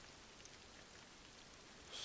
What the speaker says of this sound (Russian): Всю ночь шел дождь и до сих пор не прекращается.